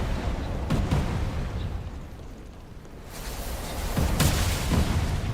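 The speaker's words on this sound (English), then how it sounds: "Something is still causing these explosions." Booming explosions in the video game Remnant: From the Ashes burst out at intervals over continuous rumbling noise, a couple of loud blasts standing out.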